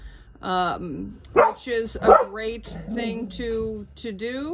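A pet dog barks, yips and whines in a rapid, high, insistent series close to the microphone, its sounds overlapping a person speaking in a quiet indoor room.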